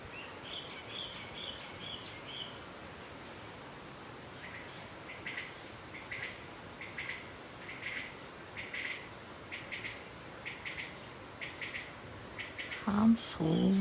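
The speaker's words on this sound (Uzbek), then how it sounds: "Ham suv sharilyapti, ham qushlar, ham bedana sayryapti." Birds and a quail call in repeated short chirping bursts at moderate distance at a countryside dacha, over a constant soft wash of flowing water, with a brief louder knock near the end.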